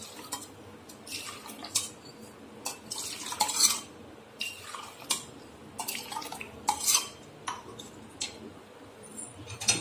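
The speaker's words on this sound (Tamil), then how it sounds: "சீனி போட்டு ரெண்டையும் மிக்ஸ் பண்ணிக்கோங்க" A spoon clinks and scrapes rhythmically against a cup or steel tumbler while sugar is stirred into filter coffee, a run of bright, close metallic taps and swirls with no talking.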